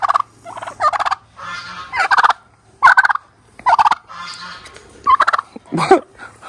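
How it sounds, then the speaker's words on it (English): A turkey gobbles repeatedly in loud, close bursts, the rapid rattling calls coming one after another with brief pauses between. "You letting that little old turkey hen pick on you?"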